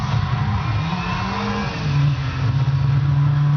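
A car engine in the Midnight Club LA video game revs hard, its loud, steady drone climbing in pitch partway through as the throttle opens further.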